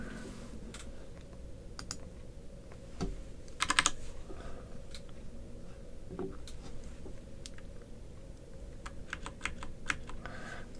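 Steady typing on a computer keyboard at a desk, with irregular key clicks and a few sharper bursts over about ten seconds, close and moderately loud above a low background hum, with no one speaking.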